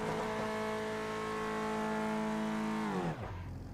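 A Renault Clio Cup race car at Monza holds a steady high engine note on a practice start, then the revs abruptly sag and bog down near the end; fairly faint, with no talk.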